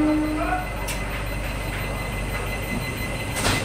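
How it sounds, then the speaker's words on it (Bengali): A Vande Bharat train at Kharagpur station rumbles with a low steady drone, a few sharp metallic clanks and brief high squeals cutting through, close and loud. "এইমাত্র আমাদের ট্রেনটা খড়গপুরে এসে পৌঁছালো।"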